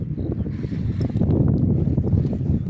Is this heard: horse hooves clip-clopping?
yes